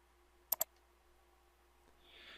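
Two quick, sharp computer mouse clicks, close and distinct, sound in near silence as an icon in a web editor is pressed.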